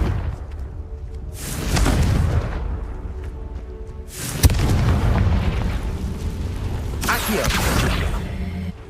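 Confringo spell blasts in the Hogwarts Legacy video game land as three booming explosions, each a heavy burst followed by a rumbling tail, the middle one opening with a sharp crack.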